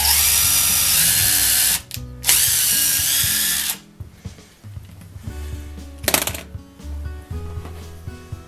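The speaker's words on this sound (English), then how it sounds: "I'm just going to drill right into that 1-inch board" An electric drill bores into a 1-inch wooden board in a woodworking shop, with two loud, steady bursts of whining motor and bit cutting, a short pause between them, then quieter clicks and a brief final spurt.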